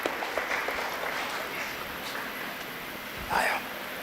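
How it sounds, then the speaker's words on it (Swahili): Applause at a church wedding ceremony, a dense, steady patter of clapping from a crowd that goes on throughout at moderate loudness, with faint background noise. "Makofi kwa Yesu."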